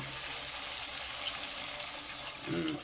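Water from a refilling station pours steadily into a container for cooking, a continuous close rushing hiss that swells slightly near the end.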